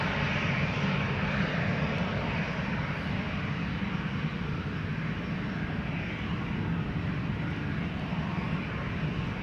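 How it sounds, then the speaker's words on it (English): A 25-year-old KLM Boeing 737-800, registration PH-BXC, departs Amsterdam Schiphol as a steady distant jet roar, an even broad rumble with no voices. "KLM flight 925, destination Edinburgh, 737-800, the PHBXC, 25 years old, first flight June 1999"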